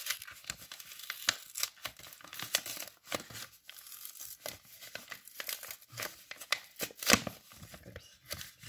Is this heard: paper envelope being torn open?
yes